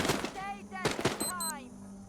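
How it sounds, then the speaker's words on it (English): A few sharp gunshots in The Walking Dead Saints and Sinners, quick reports spaced across two seconds amid game music tones and faint background sounds. "Who was shooting just now?"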